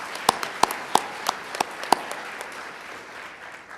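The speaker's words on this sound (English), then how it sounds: "this is another group who really deserves a big round of applause" Scattered hands clap at a conference opening session, a few sharp, distinct claps early on that thin out and fade into quiet room tone.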